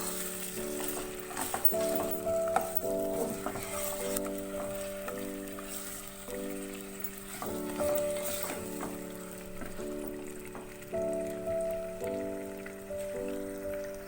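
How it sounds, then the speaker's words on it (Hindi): Steady sizzling of mutton frying in a little hot oil over a high flame, with a continuous crackle and intermittent tonal hums and clinks over it, fairly close. "मैं इसको हाई फ्लेम पे थोड़ा सा ऑयल में फ्राई करूँगी गोश्त को"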